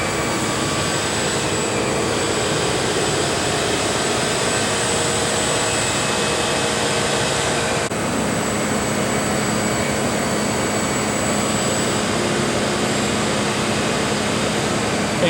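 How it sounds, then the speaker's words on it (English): An Edwards E306A coating system's vacuum pump roughs out the bell jar, a loud, steady mechanical roar and whine that holds constant throughout, close by with no talking. "So it's roughing out the bell jar right now."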